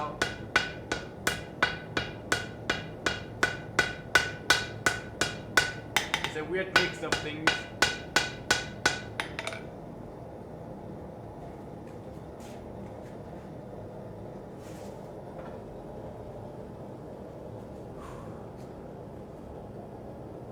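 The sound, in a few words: hammering brass thin to forge a wand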